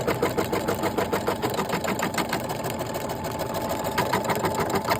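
A sewing machine stitches along a fabric pocket seam with white thread, its steady rapid mechanical whir running close and continuous throughout without a break.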